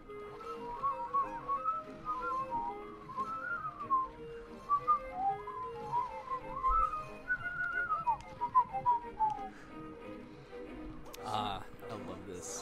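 A person whistles a wandering melodic tune while playing Epic Mickey, the whistled notes rising and falling for about ten seconds, with speech breaking in near the end.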